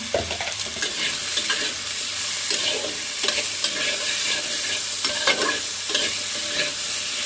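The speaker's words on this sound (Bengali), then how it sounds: "একটু ভাজা ভাজা করে নেব ঘিয়ের মধ্যে" Pumpkin and green chillies sizzle in hot ghee while a spoon scrapes and stirs the pan in uneven strokes, close and steady.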